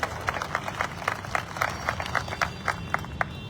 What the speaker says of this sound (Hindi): उन लोगों का भी जोरदार तालियों से स्वागत करता हूं